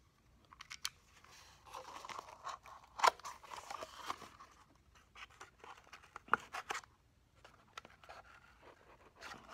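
Scissors snip through paper during a paper-to-pottery demonstration, a series of irregular short crisp cuts and rustles, fairly close and quiet, with pauses between bursts and no talking.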